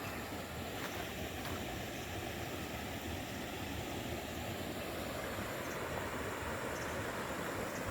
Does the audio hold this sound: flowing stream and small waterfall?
yes